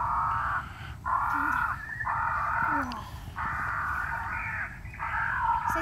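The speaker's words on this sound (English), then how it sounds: "Those are crows." Crows caw repeatedly in harsh, drawn-out calls, about six in a row, fairly close, with a faint outdoor hum beneath.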